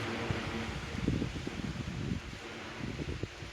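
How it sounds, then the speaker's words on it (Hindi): Cool wind blowing outdoors on a sunny day, a steady soft rush of air with light rustling and low buffeting against the microphone throughout, no voices. "हवा चल रही है माशाल्लाह ठंडी ठंडी"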